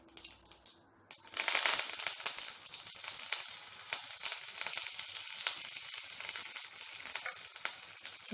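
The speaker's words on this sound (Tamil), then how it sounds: "ஆயில் சூடானதுக்கப்புறம் கொஞ்சம் கடுகு நம்ம எடுத்து வச்சதெல்லாம் சேர்த்துடலாம்." Mustard seeds and other tempering ingredients hit hot oil for horse gram rasam and burst into a loud, close, continuous sizzle with crackling pops that settles into a steady frying hiss.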